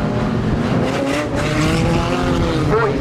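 Teen street banger racing cars roar around an oval track at Standlake in a dense, continuous engine drone with tyre squeal, occasional impacts and an announcer talking over the top.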